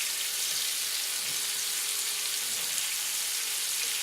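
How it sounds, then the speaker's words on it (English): Bacon frying in a pan, giving off grease that spatters, makes a steady, even sizzle with fine crackles throughout, fairly quiet and heard alone. "the bacon is going to give off grease. It's going to spatter."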